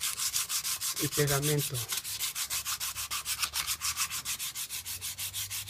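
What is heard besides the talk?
sanding PVC pipe surface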